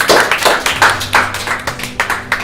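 A classroom audience on a quiz-style show claps together in rhythmic, fairly loud bursts, an uneven patter of hands close by with no talking.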